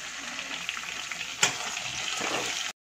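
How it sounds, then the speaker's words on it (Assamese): Meat frying with onion and chillies in a pan gives a steady, fairly loud hiss and sizzle, with one sharp clatter midway before it cuts off abruptly. "মাংসখিনি একেবাৰে কাঢ়া ভাজি হৈ গ'ল, এতিয়া মই ইয়াত অকণমান পিঁয়াজ আছে, পিঁয়াজ দি দিম"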